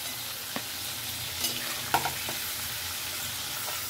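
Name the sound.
Shivada fish lightly frying in oil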